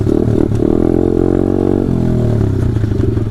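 A pit bike engine drones loudly and close while being ridden, a steady buzzing mid-pitched roar with slight shifts in pitch as the throttle varies.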